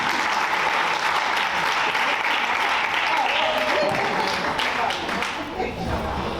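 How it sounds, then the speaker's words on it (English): Sustained applause from a crowd honoring the panelists at a parents' convening and report release, a dense, steady wash of clapping that fills the room for several seconds and thins slightly near the end. "Let's give our panelists once again a round of applause for the honesty, the courage, and the insight."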